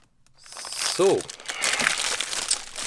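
Plastic packaging on a flexible tripod crinkles and crackles close up in a burst of handling noise during unwrapping, with a brief vocal sound partway through.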